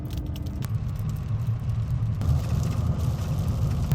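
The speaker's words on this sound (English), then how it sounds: "start driving towards Georgia right now" A car pulls away after a blizzard, its engine giving a steady, close low rumble that swells slightly as it gets moving, heard alone without talk.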